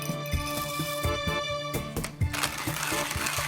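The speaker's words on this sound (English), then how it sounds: "started the grinder and gave it a good shake to make sure no fines were left" A hand coffee grinder with a pre-breaker burr and chaff collector crunching through about ten grams of beans, a steady rhythmic grinding with mechanical whir and rattling.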